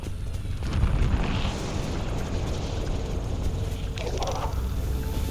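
Heavy fire rumbles in the Mass Effect 2 video game during a Collector ship attack, a continuous deep roar of blasts with a louder burst near the start and a brighter crackling eruption near the end.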